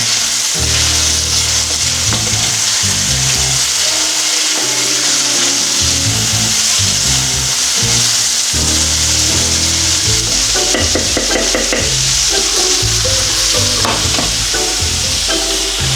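Onions sautéing and being stirred in a pan for tartiflette, a large heap of them, giving a steady loud sizzle with scraping stir strokes throughout, music or kitchen noise layered beneath.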